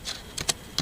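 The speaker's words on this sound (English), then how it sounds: "So I'm just typing that" Computer keyboard typing a short file name, a handful of quick key clicks close to the mic in an otherwise quiet room.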